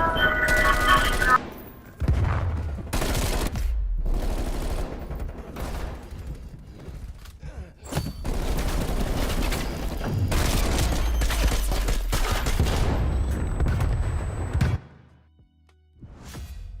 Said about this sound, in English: Stun grenade out.